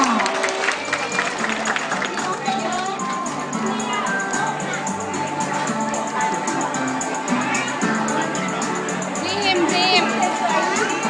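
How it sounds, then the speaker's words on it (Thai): Parents and audience applaud the children at a kids' dance show, a dense, continuous wash of clapping mixed with crowd noise and voices that swells slightly toward the end. "ขอเสียงปรบมือให้กำลังใจเด็กๆหน่อยค่ะ"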